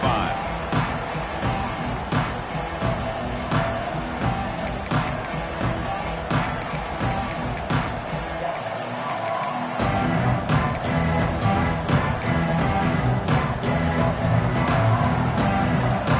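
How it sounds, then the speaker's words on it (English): A packed stadium crowd roars continuously during an early-game college football moment in the NCAA 26 video game, a dense, loud wall of cheering and noise that swells further partway through. "It's early, but this crowd is fired up. Listen to this noise here."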